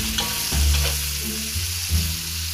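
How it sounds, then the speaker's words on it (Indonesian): Onion and garlic sautéing in hot oil in a pan while cooking a Thai-style three-flavour sea bass dish, giving a steady, loud sizzle with occasional stirring scrapes and no talking. "Sebelum ni kita tumis bawang Holland."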